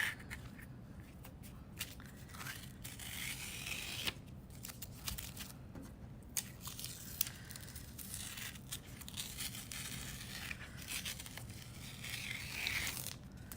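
Tape peeling off paper during an art lesson on positive and negative space, a steady close tearing rasp with small crackly bursts, continuous and fairly quiet.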